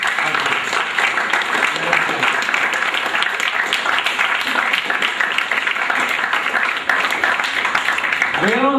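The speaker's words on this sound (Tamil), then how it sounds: "அவங்களுக்கு பலமான கைத்தட்டல் கொடுத்துடலாமா?" Audience at an education event applauds the organisers with loud, sustained clapping from a large crowd, a dense continuous roar of hands lasting nearly nine seconds, and a voice starting to speak at the very end.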